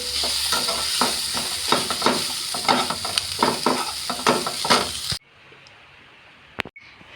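Spiced chicken sandwich filling with garam masala and black pepper stirred in a pan, a dense close sizzle with repeated scraping strokes that stops abruptly, leaving near silence and a couple of faint clicks.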